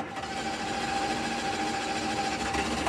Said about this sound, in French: C'est le moteur de la voiture qui fait tourner les hélices